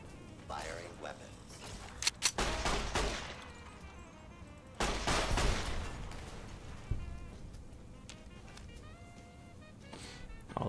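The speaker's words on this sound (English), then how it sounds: "Firing weapons." Weapons firing in Fallout: New Vegas during the Old World Blues expansion, several loud bursts of gunfire with rapid crackling bangs, separated by quieter stretches of ambient noise.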